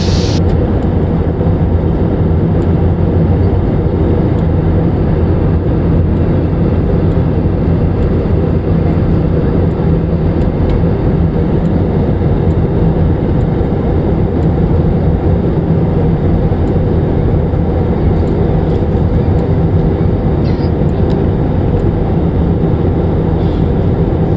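Steady roaring cabin noise aboard an airliner flying from Abu Dhabi to Kochi, a loud, unbroken broadband engine and air rush that holds constant throughout.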